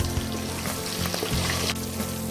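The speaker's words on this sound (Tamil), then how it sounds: "இப்போ கருவேப்பிலையும் சேர்த்துக்கிறேன்." Curry leaves and ginger sizzle in hot oil for rava pongal, a steady close frying hiss with small crackles and no talking.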